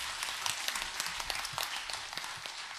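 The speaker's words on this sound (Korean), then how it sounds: "영광의 박수 올려드립니다." A church congregation claps at a Sunday worship service in praise, a quiet, fairly distant patter of many hands that stays steady and soft throughout.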